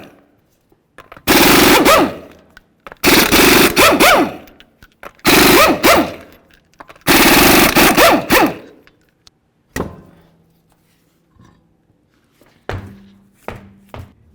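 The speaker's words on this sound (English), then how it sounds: "we're going to remove all 5 of our 19mm lug nuts and then the wheel." An impact wrench rattles off the 19mm lug nuts on a Ford Explorer wheel in four loud, sharp bursts of hammering, followed by quieter clanks and short buzzing spins as the nuts come free.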